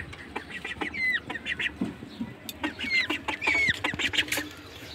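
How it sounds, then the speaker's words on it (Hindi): A pet duckling and a chick peep and chirp close by, high trilling calls coming in quick clustered bursts with short gaps, alone without talk. "ओ डकी डकी डकी डकी, साड़ा ये हमारी डकी है, छोटी सी डकी, और ये चूजा है हमारा"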